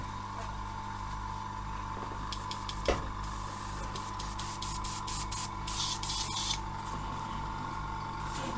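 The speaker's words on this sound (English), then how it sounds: "Let's get the compressor on." A small airbrush compressor hums steadily while an inline-valve airbrush sprays IPA in short hissing bursts, with faint mechanical clicks under a constant low drone.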